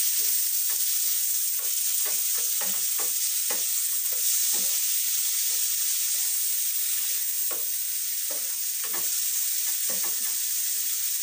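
Tomatoes fry in a pan with a continuous bright sizzle, broken by repeated scraping and stirring knocks from a utensil, close and steady, with no talk.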